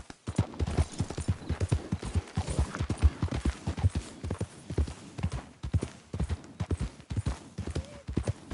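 Horse hooves gallop in Red Dead Redemption, a rapid, rhythmic run of close, punchy clip-clop beats that continues steadily throughout.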